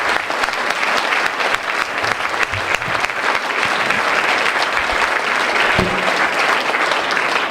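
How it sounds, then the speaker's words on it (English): Audience applause at a San Jose mayoral candidate forum, continuous dense clapping from a room full of people, loud and even, with faint crowd murmur beneath. "Let's give them a big round of applause."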